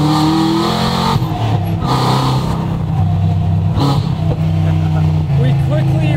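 A supercharged 1969 Chevelle revs and pulls away hard, its loud, steady engine roar rising and dropping through gear changes, close by, with people talking over it.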